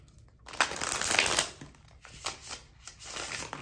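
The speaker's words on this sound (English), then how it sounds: "I cannot believe I'm shuffling like this." Thick tarot cards shuffled by hand up close, a series of rough riffling and scraping bursts in uneven rhythm, loud and dry with short pauses between.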